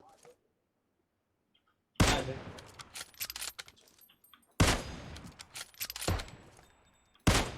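Gunfire rattles in the mobile battle royale game PUBG Mobile: after a quiet start, sharp bursts of automatic shots and single cracks erupt in several clusters, loud and close, with a voice briefly heard.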